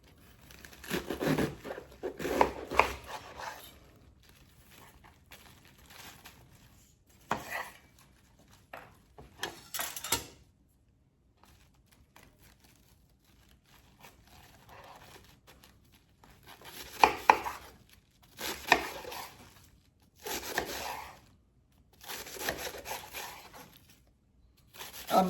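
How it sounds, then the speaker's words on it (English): Napa cabbage being cut into strips with a knife, heard as bursts of crisp chopping and crunchy slicing separated by quiet pauses, close and fairly loud with no talk. "I'm just going to go ahead and slice it up into strips."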